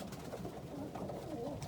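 Colored homer pigeons coo softly and steadily inside a loft, a low continuous murmur of overlapping calls with no clear pauses.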